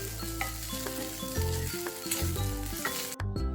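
A pan of patrode tempering with jaggery and grated coconut is stirred, giving a continuous soft sizzle with scraping under prominent background music, ending abruptly.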